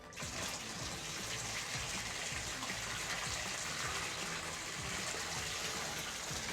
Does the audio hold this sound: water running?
yes